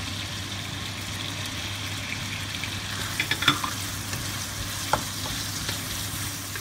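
Pork stir-fries in a wok as Chinese yellow wine is added, giving a steady close sizzle with a few sharp pops and stirring scrapes, and no talking.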